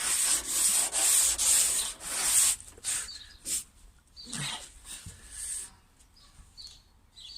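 Hand sanding of body filler on a Peugeot 206 bonnet: close, steady rasping strokes that are loud and rhythmic at first, then turn into shorter, lighter scrubbing passes with birds faintly audible outside.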